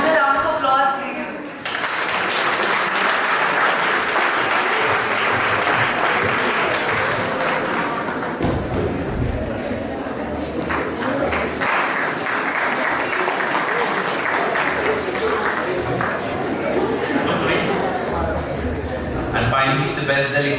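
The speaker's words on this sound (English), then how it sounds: "A huge round of applause, please." Delegates at the St Joseph's College Nainital Model UN awards applaud in a long, loud, sustained wave of clapping, briefly dipping before swelling again, with voices faintly mixed in beneath.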